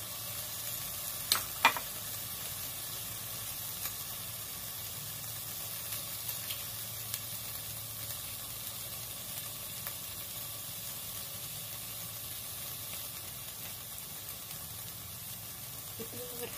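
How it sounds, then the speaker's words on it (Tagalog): Shrimp shells frying in a pan for Thai tom yum goong soup, a steady hissing sizzle lasting the whole stretch, with a few soft clinks of stirring near the start and no talk. "Sasangag natin o lulutuin yung balat ng shrimp"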